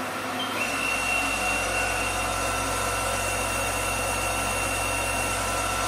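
A Haas VF3 CNC mill spindle turning steadily at 500 RPM gives a continuous, even mechanical hum with a faint high whine, loud and unbroken throughout with no talking.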